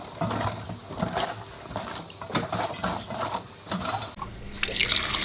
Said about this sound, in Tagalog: Balawan na po natin mga paps yung ating dalag na binabad sa asin.